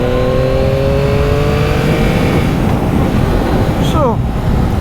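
A 2023 Yamaha MT-09 motorcycle engine running loud and steady while riding, with rising and falling engine tones and a brief whistling sweep near the end over constant wind and road noise.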